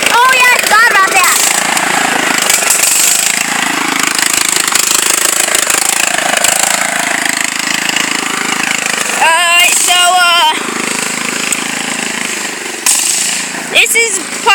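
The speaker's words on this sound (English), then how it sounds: "riding the new John Deere around" A new John Deere tractor being driven, its engine giving a steady, loud, rumbling drone throughout with some rattling. Voices talk over it now and then.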